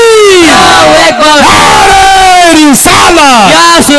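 A large crowd at an Eid Milad un Nabi gathering roars a chant back after a takbir call, loud, sustained and close, with voices rising and falling in repeated swells.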